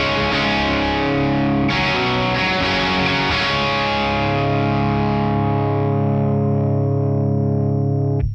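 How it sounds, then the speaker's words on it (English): Electric guitar through a Soldano Supercharger GTO pedal into an already distorted YBA2A amp, heavily saturated sustained chords ringing loud and compressed, struck once, then again, held and fading out at the end, with no talking. "Let's see what this pedal sounds like into an already distorted amp."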